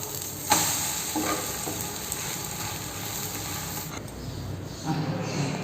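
Spicy egg masala omelette sizzling in a pan after being flipped, a continuous close frying hiss with a sharp clink of the turner near the start and a few utensil scrapes.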